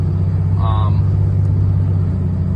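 A Cummins 5.9 diesel pickup with a Smarty Jr tuner cruises in normal driving, heard from inside as a steady, loud low engine drone and road rumble, with a person talking briefly over it.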